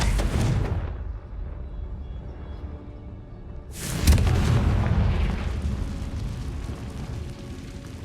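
A Confringo fire spell explodes in Hogwarts Legacy, giving a loud boom that decays into a rumbling tail. A second, heavier blast and rolling roar follows about three seconds later.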